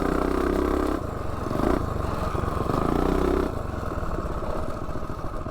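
Motorcycle fitted with a Juggernaut tuner kit revving hard on a launch run, a loud close engine drone rising and falling in bursts with clattery mechanical rattle, no voices.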